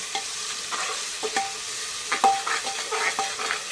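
Onion fries with whole garam masala in a pot, giving a close, steady sizzle broken by repeated scraping and clinking strokes of a stirring spoon at an uneven rhythm.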